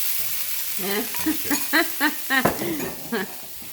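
Leftover potato skins sizzle in a frying pan under a soft hiss, with a quick run of short scraping squeaks as they are stirred.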